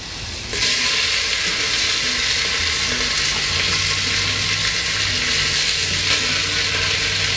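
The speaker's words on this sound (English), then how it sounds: "So the butter is going in, and to prevent the butter from burning, I just want to put in our onions straight away." Onions hitting hot butter on a grill break into a sudden loud, continuous sizzle that stays strong and steady, with a low rumble underneath and no voices.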